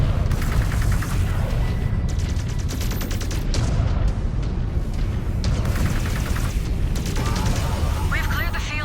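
Sustained video game gunfire in Rampage of the Ghost Bear, dense loud bursts of rapid automatic shots and booms rattling continuously without pause, with voices calling out over the barrage.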